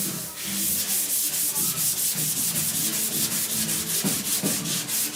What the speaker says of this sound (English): I try my best to not sand through that epoxy primer.